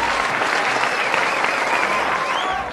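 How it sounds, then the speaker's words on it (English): Attendees of a kindergarten commencement ceremony give the parents a loud, resounding round of applause, a continuous wash of many hands clapping for nearly three seconds before easing slightly at the close. "let us also give our parents a resounding applause"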